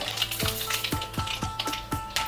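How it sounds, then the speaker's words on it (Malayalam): Mustard seeds crackle and pop in hot oil in a pan, a rapid run of sharp snapping bursts over a steady sizzle, close and fairly loud, with no voices. "കടുക് പൊട്ടി തുടങ്ങി."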